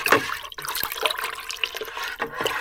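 Yeast being stirred into liquid for homemade wine, a close sloshing and swirling of water with small splashes and gurgles throughout.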